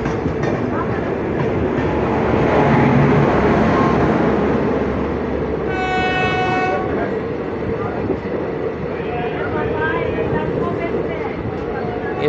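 The Saptagiri Express from Chennai to Tirupati rolls slowly past Basin Bridge Junction, giving a loud, steady rumble with clattering wheels, a short horn blast partway through and someone talking over the noise.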